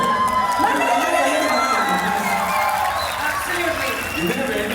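Audience applause and cheering at a film success celebration in the UAE, loud continuous clapping with whoops and shouts from a large crowd, a voice speaking over the din.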